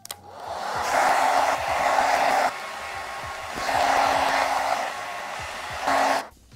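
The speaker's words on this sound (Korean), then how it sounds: "드라이기에 찬바람을 이용해서 말려줄게요" A handheld hair dryer set to cold air blows steadily on damaged, shoulder-length hair, running in two long bursts with a short pause between them and a brief final burst. The whirring is close and loud, and no one speaks.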